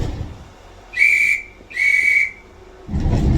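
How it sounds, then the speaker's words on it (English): A train guard's whistle blown at departure: two sharp, shrill blasts, each about half a second long, one after the other, standing out clearly over a low background rumble. "I will then blow my whistle and wave my green flag"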